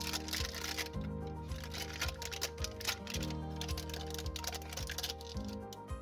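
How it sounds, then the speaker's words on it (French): A knife cuts butter into small pieces for Christmas brownies, making a quick series of light taps and clicks on a board under steady background music. "nous allons couper le beurre en petits morceaux"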